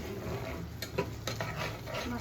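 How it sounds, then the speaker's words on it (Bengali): Spices sautéing in a pan, a soft continuous sizzle with a few light scraping stirs, quiet and close, no talk. "সুন্দর করে মশলাগুলো কষিয়ে নেব"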